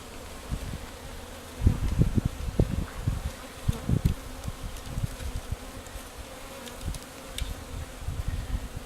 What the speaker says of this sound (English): take all those bees and put it into that hive